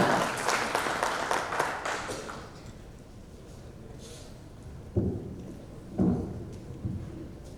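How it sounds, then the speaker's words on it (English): Applause at a conclave welcoming a keynote speaker, a brief burst of clapping for about two seconds that fades out, followed by faint room noise and a few scattered knocks or handling sounds. "let's call our keynote speaker, Professor Sasmita, Vice Chancellor, University, with a huge round of applause"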